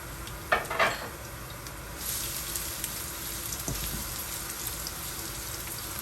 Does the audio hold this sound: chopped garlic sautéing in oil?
yes